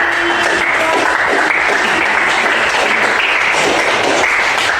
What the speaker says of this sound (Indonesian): Silakan berikan aplaus untuk pendapat dari